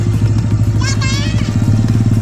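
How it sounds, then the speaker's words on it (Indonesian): Motocross motorcycle engine running steadily up close while riding near Pangandaran beach, West Java, a constant low drone throughout, with a brief rising whine in the middle and light clatter. "sekarang aku lagi naik motor cross"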